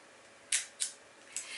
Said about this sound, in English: That's the sound of the shutter on this bad boy.